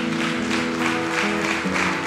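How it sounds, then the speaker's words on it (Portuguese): Church congregation applauding at a worship service, continuous crowd clapping over sustained low organ or keyboard tones, steady and fairly loud. "Aplauda o Senhor o mais forte que você puder."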